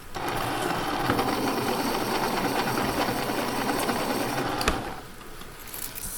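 A pencil being sharpened, likely in an electric sharpener, gives a steady loud grinding whir close by for several seconds, then stops abruptly and leaves quieter room sound.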